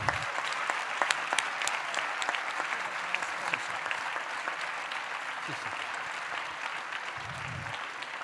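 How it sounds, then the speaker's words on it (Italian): A conference audience applauds the speakers steadily and loudly, the clapping sustained without a break from start to finish. "Di nuovo un grande applauso per i nostri relatori."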